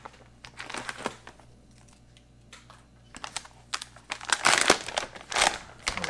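A Ziploc pouch from a Russian civil defense ration pack is pulled open at close range, with scattered plastic crinkles and a sharp ripping zip burst, then more crackling.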